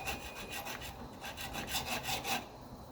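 A Scotch-Brite pad rubs and polishes a metal part on a 1985 Mercedes 300D, giving soft rhythmic rasping strokes, close and fairly quiet, with no talk.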